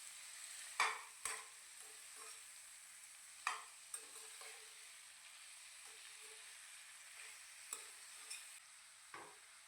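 Marinated chicken stirred in a frying pan gives a soft, steady sizzle and a handful of sharp utensil scrapes at irregular intervals, fairly quiet and with no voices.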